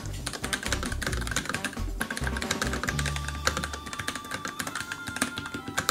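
Fast, steady typing on a Pulsar Mutant 80% mechanical keyboard, crisp close keystrokes clattering in quick bursts, with a faint low hum briefly underneath.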